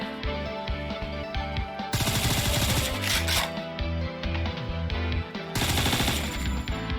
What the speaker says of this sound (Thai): แต่ปืนมันแรงใช้ได้อยู่นะถึงจะยิงไม่ค่อยโดนเท่าไหร่